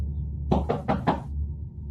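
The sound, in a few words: knock on a window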